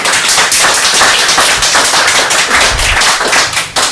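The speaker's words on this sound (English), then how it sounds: "Give him a round of applause." An audience at a poetry reading applauds steadily, a dense wash of clapping that stays loud throughout with no voices over it.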